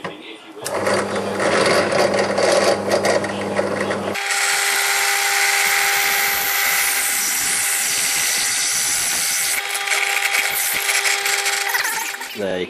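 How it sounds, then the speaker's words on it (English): A power drill bores holes in a homemade hunting knife blade, its motor running in a loud, steady whine after a brief, rougher burst of cutting at the start. "There, you can see I've drilled 3 holes."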